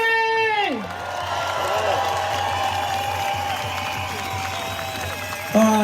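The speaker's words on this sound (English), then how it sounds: "another big round of applause" A rally crowd in Melbourne claps and cheers loudly and steadily, with whoops and shouts carrying over the dense applause while voices ring out across the open-air gathering.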